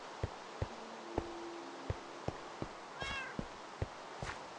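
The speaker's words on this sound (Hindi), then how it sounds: "ये बिल्ली म्याओ म्याओ कर रही है" Repeated soft cat meows in Minecraft, several short calls scattered among regular faint ticking thuds.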